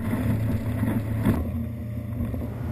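A Mercury-powered Zar 57 Welldeck motorboat engine drones loudly up close with wind and water rushing, the pitch building steadily as it picks up speed.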